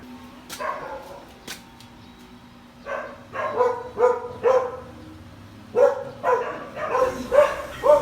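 A dog barks repeatedly in short bursts, a few scattered barks then two quick clusters, fairly close and loud over a quiet background.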